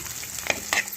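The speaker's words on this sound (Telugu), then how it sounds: "వేసేసి బాగా వేగాలండి." Raw plantain and onions frying in a pan, a close, soft sizzle with a couple of brief brighter crackles over a steady hiss.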